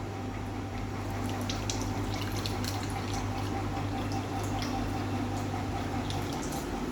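Alkaline 9.5 pH water streams steadily from a Kangen water machine, a continuous close-up pour with faint splashing and no talking.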